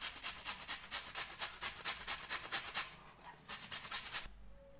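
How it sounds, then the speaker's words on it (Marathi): Peeled carrots rasped against a handheld grater for carrot halwa, a rapid, even run of scraping strokes, close and fairly loud, ending in a brief pause. "या किसण्याने पूर्ण किसून घेणार आहे मी गाजर"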